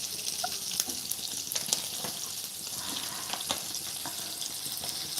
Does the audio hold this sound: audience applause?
no